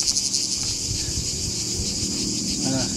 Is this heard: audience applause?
no